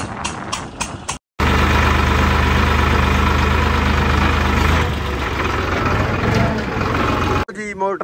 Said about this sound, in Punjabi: ਕੱਦੂ ਵਾਲੇ ਖੇਤ 'ਚ ਟਰੈਕਟਰ ਬਾਲ ਲਿਆ।